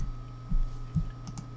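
Light clicking of typing on a computer keyboard, a few soft, quiet keystrokes spread over a second or so against a low steady hum.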